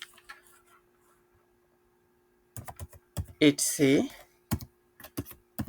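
Keys clatter in short bursts on a computer keyboard as Linux terminal commands are typed in a Kali Linux environment, with brief speech in between.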